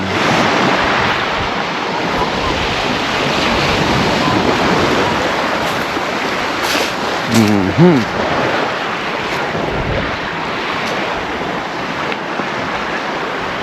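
Surf washes steadily onto 9 Mile Beach at Bull Bay, Jamaica, a continuous loud roar of breaking waves with some wind buffeting, and a brief faint voice partway through.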